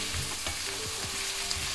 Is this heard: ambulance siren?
no